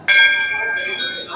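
Temple bells ring at Dhari Devi temple on the Alaknanda river in Uttarakhand, one clear metallic strike that rings out and then a second strike, heard up close.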